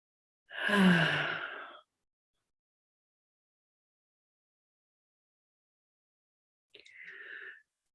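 Two breaths in a quiet room during a relaxation exercise, a long audible sigh early on, then a shorter, fainter exhale several seconds later, with silence in between.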